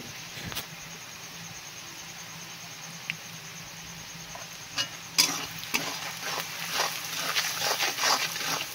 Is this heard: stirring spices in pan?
yes